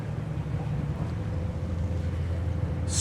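A Nordhavn N71 yacht's engine hums steadily at low pitch in reverse, revs slowly building, with wind rumble across the microphone and a brief hiss near the end.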